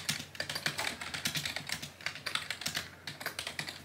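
Rapid keystrokes on the small keyboard of an 8-bit BASIC computer kit, a steady run of close, crisp clicks and taps with no talking.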